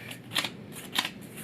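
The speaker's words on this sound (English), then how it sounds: "Just bend in that paper." Paper crinkles softly as a book page is bent and folded over, with two brief rustling crackles, close and quiet.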